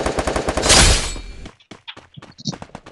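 Gunfire in the mobile battle game Free Fire: a dense rapid burst of loud automatic shots for about a second and a half, then a quieter scatter of single pops and clicks.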